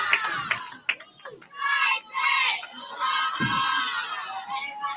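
Crowd noise at a collegiate club national championship match, a lively mass of cheering and shouting voices swelling and dipping over several seconds, with a few sharp claps mixed in.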